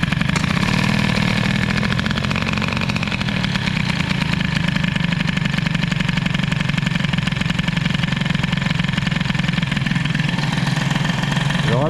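A Peugeot 103 moped with an air-cooled Airsal 65 kit idles low and steady, its small two-stroke engine putting out a continuous loud buzzing drone up close with no pauses.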